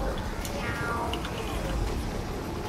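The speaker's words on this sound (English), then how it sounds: "It's meowing. Yes, it is meowing." A cat meows a few times, soft and somewhat distant, half-buried in a steady wash of background noise and chatter.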